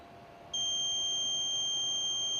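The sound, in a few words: card reader access denied beep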